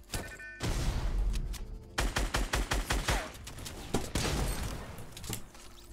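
Rapid gunfire in Fortnite: Battle Royale, loud dense volleys with a clear run of evenly spaced shots in the middle, then more bursts trailing off.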